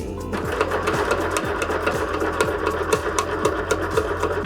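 Sewing machine stitching an embellished zipper purse, a steady close mechanical whirr with rapid rhythmic needle strokes running continuously and loud, with no voices.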